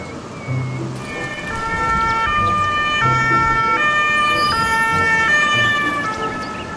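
Toy police car siren wailing in a repeating two-tone pattern, loud and close, several cycles over a faint background hum.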